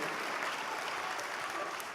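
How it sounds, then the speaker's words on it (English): Audience applause for a guest speaker, a steady, even roar of many hands clapping at moderate level, continuous throughout the short stretch. "can you give a big round of applause to Mr. Mark Sterling?"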